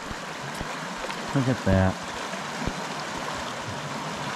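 The South Fork of the Boise River flows and rushes in a steady, broadband wash close by, continuous throughout, with a brief spoken remark over it.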